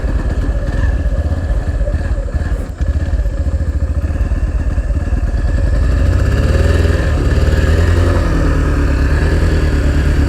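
A 2024 white Yamaha FZS V4 motorcycle engine idles and runs close by, a loud steady thrumming putter that rises slightly in pitch partway through as it is revved.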